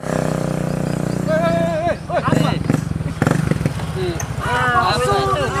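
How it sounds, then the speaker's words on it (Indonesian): A rusty motorcycle engine runs steadily up close, its low hum continuing beneath several people talking loudly over it. "Motor apa ini motormu? Berkarat gitu seperti mukamu."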